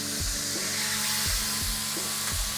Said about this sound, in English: As you can hear, quite a lot of sizzling going on. That's just the juices hitting the pan.